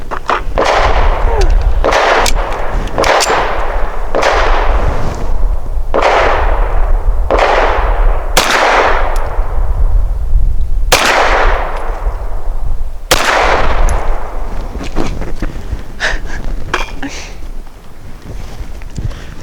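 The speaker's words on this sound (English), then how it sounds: "the slide did not lock back while shooting the Fiocchi because the ammo is just a little too soft for it" Repeated sharp reports from a Citadel M1911 pistol shooting Fiocchi 100 grain ammunition, about eight loud, evenly paced shots with ringing decay, over steady outdoor background noise.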